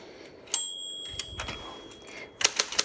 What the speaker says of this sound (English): So when you are typing and there's my bell saying, hey, margin, hit the return handle